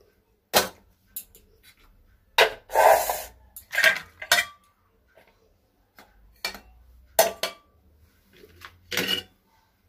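A lid goes onto a cooking pot: several separate clanks, rattles and short scrapes, near and fairly loud, separated by quiet gaps.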